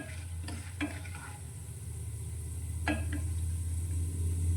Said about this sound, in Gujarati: તો આ રીતે હલાવતા જઈ અને તેને સાંતળીશું